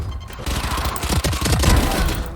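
Rapid gunfire bursts in Valorant, a tight, loud chain of shots with punchy low thumps running through the whole moment, no talking over it.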